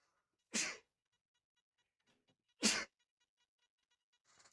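Two sharp sneezes about two seconds apart, close and loud, with quiet between them and a faint rustle at the end.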